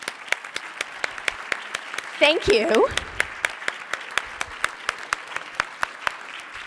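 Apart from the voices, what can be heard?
round of applause for medical students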